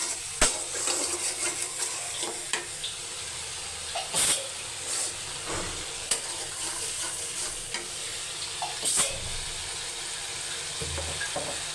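Spices fry in a pan with a steady hiss, broken by sharp clinks and scrapes of stirring at irregular intervals, with no voices present.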